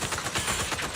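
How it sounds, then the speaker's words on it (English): Rapid gunfire in the video game Zenless Zone Zero, a dense, steady burst of shots rattling without pause for about a second. "Oh, rapid fire."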